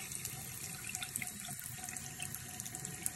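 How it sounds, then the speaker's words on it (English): A jewelry ring is rinsed under a running kitchen tap, giving a steady close splash and gurgle of water with small clinks and drips and no talking. "So now I'm gonna grab it and rinse it under water."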